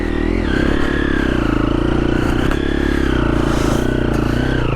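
A Triumph TF250E motorcycle lugs along on a ride through the Australian bush, its engine a loud, close, continuous drone that rises and falls with throttle, with occasional clatters and scrapes.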